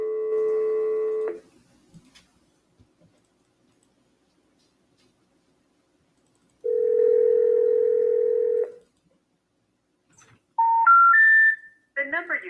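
A telephone call to a number that is not in service plays steady intercept tones with long silent gaps between them, then a rising three-note tone sequence, all clear and electronic.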